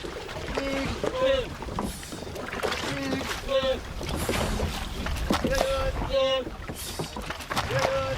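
A motorboat at sea off Mauritania tows one end of a fishing net, giving a continuous engine drone mixed with water wash and wind. Voices call out in short bursts over it.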